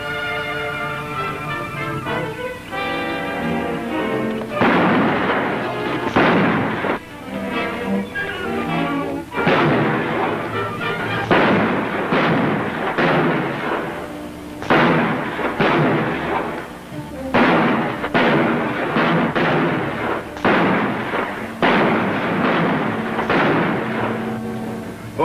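Gunfire rings out in a 1953 western shootout at Stone Canyon Springs, with repeated loud, booming shots in irregular clusters, some echoing, spread across the scene.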